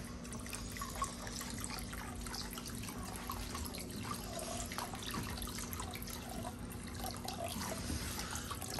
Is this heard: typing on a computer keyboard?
no